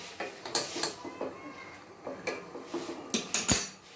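Light metallic clinks and taps of cookware end in a louder clank as a lid is set onto a pot steaming over water on a stand, while cooking a lentil dhoka dish.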